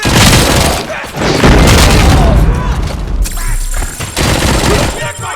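Heavy gunfire and booming blasts in a RoboCop video game, loud and sustained, with rapid bursts throughout and game voices shouting amid the noise.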